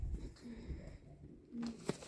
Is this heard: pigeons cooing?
yes